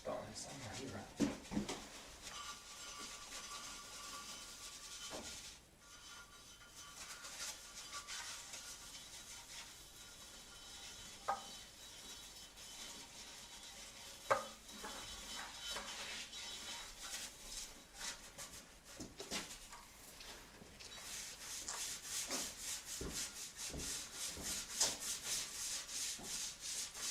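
A car is scrubbed by hand with a steady, rasping rub of a brush or sponge over its body, close up, with occasional knocks and someone talking intermittently.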